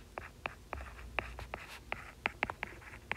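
Pen or pencil taps and short strokes as zeros are written on paper for a math practice test, about a dozen quick, irregular marks, close and fairly quiet, with no talking.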